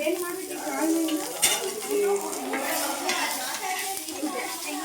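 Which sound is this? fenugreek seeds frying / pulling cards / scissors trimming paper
fenugreek seeds frying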